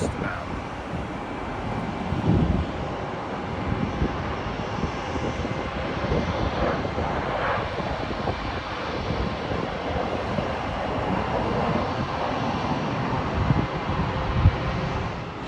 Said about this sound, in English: KLM's Boeing 737 is arriving at Heathrow from Amsterdam